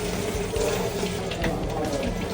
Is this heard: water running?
yes